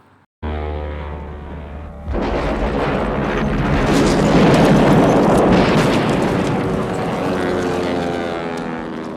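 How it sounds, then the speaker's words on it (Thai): A weapons factory explodes in a film scene: a massive, sustained explosion roars after a brief low rumble, with dense crackling debris and a deep rolling boom that stays loud throughout. "บอนด์หนีรอดออกมาได้อ ย่างบุดหวิดและระเบิดทำลายโรงงานอาวุธดังกล่าวได้สำเร็จครับ"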